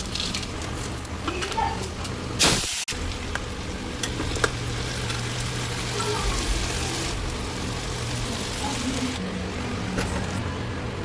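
Sabzi cooks in a pan, made methi-style with fennel seeds added, giving a steady close sizzle and frying crackle with a sharp clatter just before the three-second mark, and faint voices underneath.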